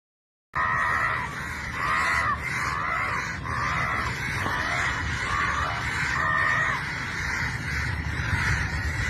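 A young woman imitates crow caws to call crows in, repeated harsh calls in steady succession over a noisy outdoor background, fairly loud and close.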